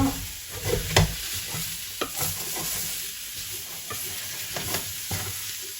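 Zucchini sizzles in a pan for a curry while a utensil stirs it, with repeated scraping clatters over a steady frying hiss, close and moderately loud.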